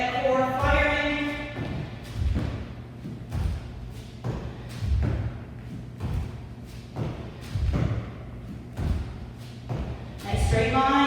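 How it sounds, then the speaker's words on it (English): Feet thud onto a floor as a person jumps back into a plank during a core workout, a series of soft, heavy thumps repeating at a steady rhythm between spoken instructions. "Jump those feet back into the plank."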